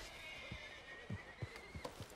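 A horse in Red Dead Redemption 2 whinnies over a steady background drone, with a few soft, evenly spaced hoof clops beneath it.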